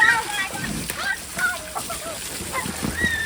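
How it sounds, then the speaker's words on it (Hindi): Water splashes and sloshes in a home swimming pool, uneven bursts of splashing over a low background while shrill, excited voices and squeals ring out around it. "तो गाइस देखिए मैंने अरशद को पानी डाल दिया पूरा ठंडा।"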